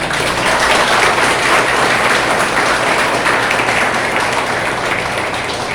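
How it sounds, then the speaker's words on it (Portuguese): A church congregation at an evening celebration gives a round of applause, a thick, even wash of many hands clapping continuously for nearly six seconds, fairly loud and close, with no speech on top. "Uma salva de palmas."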